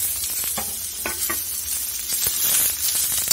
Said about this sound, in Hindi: इनको हम हल्का हल्का सा फ्राई कर लेंगे।